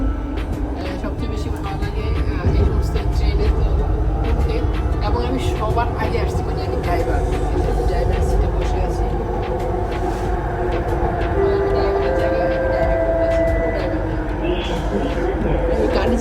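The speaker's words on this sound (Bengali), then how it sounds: "আবার আরেকটা স্টেশন সামনে গিয়ে আবার থামবে মানে অনেক স্পিডে চলে কিন্তু কিছুক্ষণ পর পর থামে" A Kuala Lumpur LRT train runs between stations with a low continuous rumble and rail hum, faint clicks and a brief rising tone, while someone talks over it.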